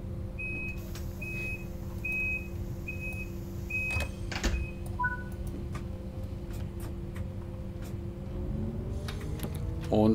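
Inside a BR 612 diesel railcar in Train Sim World 5, a door warning sounds as a string of evenly spaced beeps over a steady engine hum, followed by a couple of short tones and a soft thud near the end.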